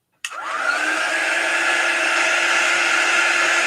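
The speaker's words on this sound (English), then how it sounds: "You can use a hair dryer." A hair dryer switches on abruptly and blows with a steady, loud, even whoosh that holds without pause.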